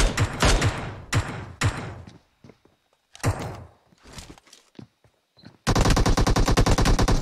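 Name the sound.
heavy gunfire in a video game battle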